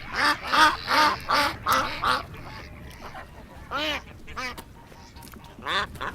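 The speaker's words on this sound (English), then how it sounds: "Hey, ducks." Ducks on a farm quacking loudly and close, a rapid run of repeated quacks followed by several more spaced-out calls.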